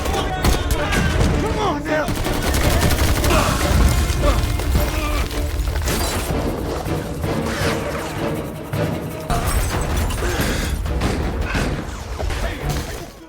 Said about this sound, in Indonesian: Dan baku tembak yang kejam pun dimulai.